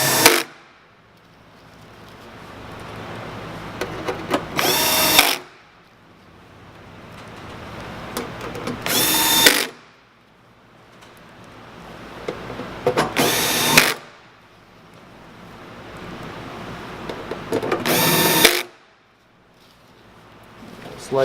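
A power drill drives screws into a floor during a heating element replacement, giving four loud, whining bursts of a few seconds each at a steady rhythm, with quieter handling noise in between.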